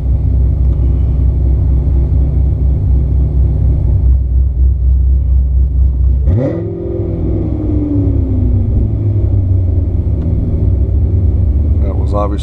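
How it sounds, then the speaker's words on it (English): A 2015 Corvette Z06 built to about 754 rear-wheel horsepower idles in touring mode with quiet exhaust and a steady loping rumble, then a sharp blip of revs swells and settles back to idle. "Put it in touring mode right now so you can hear the quiet exhaust. We do have a nice lope at idle."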